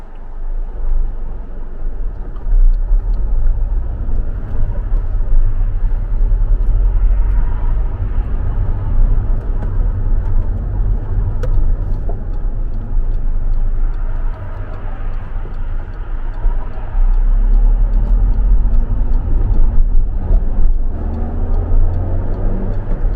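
A Peugeot 307 CC with a 2-litre engine being driven on the road and gathering speed, a loud, steady low engine drone and road rumble heard from the cabin, with a faint ticking in the background and no speech.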